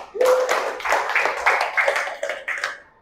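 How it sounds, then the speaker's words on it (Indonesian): A small class claps together for a few seconds, quick uneven hand claps close by with a few voices mixed in. "Tepuk tangan untuk Dea."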